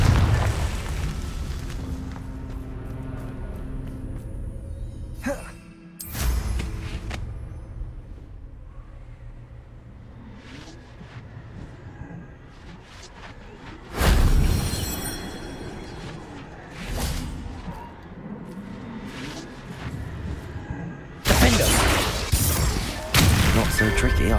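Spell blasts in Hogwarts Legacy, a Confringo fire spell: several loud, sharp booming explosions burst out over game music and effects, with a heavy cluster near the end and a speaking voice between them.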